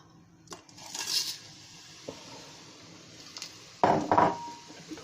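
A wooden spoon stirs whole spices in hot oil in a pot, making a few sparse knocks and scrapes, then a brighter cluster of clinks near the end, over a faint, steady background rush.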